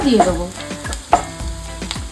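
Onion paste fries in coconut oil with a low crackling sizzle, overlaid by a woman's brief speech and a few sharp clinks of a utensil against the pan.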